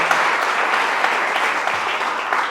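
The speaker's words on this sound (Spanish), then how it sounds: "Den ese fuerte aplauso a Él en esta tarde." Church congregation at an evangelical service applauding in one dense, steady wash of clapping that stays loud and even throughout.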